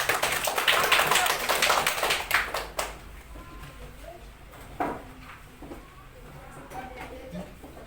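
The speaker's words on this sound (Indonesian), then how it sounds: "Aplaus untuk kelompok 3." Classroom applause for a student group after a presentation: a loud burst of many hands clapping for about three seconds that quickly fades, followed by quieter room noise, a few taps and a teacher speaking.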